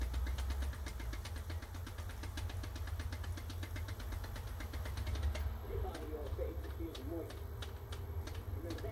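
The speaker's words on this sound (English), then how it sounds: "you can just hear it flapping over that pinch roller" A Philips VR2022 VCR's tape flaps over a poorly gripping pinch roller during fast wind search, giving a rapid, regular ticking over a steady motor whir that turns sparser and more uneven partway through.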